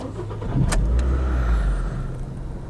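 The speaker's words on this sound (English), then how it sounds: "Start the engine." A used car with 116,000 on the clock starting up: a sharp crank transient, then the engine catches and settles into a steady low idle that hunts slightly at first, with no talk over it.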